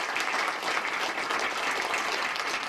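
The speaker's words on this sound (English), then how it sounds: "a standing ovation." A hand-picked crowd at an Ontario government announcement gives a standing ovation, with dense, sustained clapping that stays loud and even throughout.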